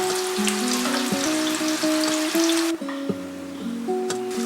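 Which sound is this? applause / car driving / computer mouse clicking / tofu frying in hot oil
tofu frying in hot oil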